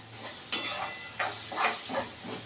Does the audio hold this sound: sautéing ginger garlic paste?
yes